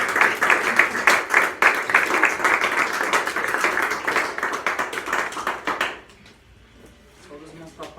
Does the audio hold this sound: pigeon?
no